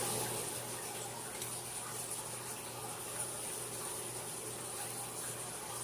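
Water steadily poured onto freshly repotted spider plant cuttings, a continuous soft, even rush with no breaks.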